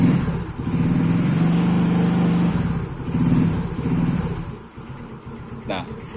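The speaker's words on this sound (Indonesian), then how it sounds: "kayak gini, motor itu bisa nyala." A motorcycle engine with a starter problem turns over and runs with a steady throbbing idle that rises and dips, with a voice talking over it.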